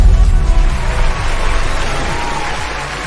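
A large crowd applauds and cheers in a dense, continuous wash of clapping that holds at a steady loud level throughout, with no distinct voices standing out.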